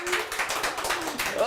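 Audience clapping during a Malayalam talk show, a brief burst of applause mixed with people talking over it.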